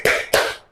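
Two sharp hand claps about a quarter second apart, close and clear, from a class performing the 'tepuk salut' clapping routine during an Islamic religious education lesson.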